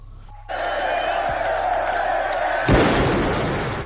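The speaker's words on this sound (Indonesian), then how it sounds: "Di tengah pidato, Cyrus tiba-tiba ditembak oleh Luther" A gunshot from the 1979 film The Warriors, one sharp bang that cuts through a loud crowd roar late in the scene, near and forceful.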